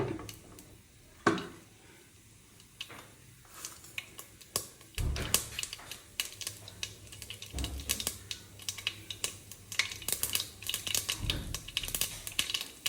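Mustard seeds splutter in hot oil with scattered pops and crackles, faint at first and growing busier.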